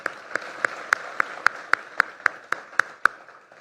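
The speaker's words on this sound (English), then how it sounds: "So if you wouldn't mind joining me on a round of applause for them," A single set of hands claps in a steady, even rhythm at a startup week event: about a dozen sharp, evenly spaced claps, moderately close, over faint room background.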